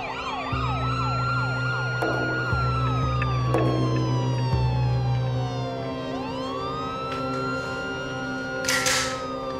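Police and ambulance sirens wail outside, several overlapping rising and falling tones with quick yelping bursts and a deep horn, loud and continuous with no talk.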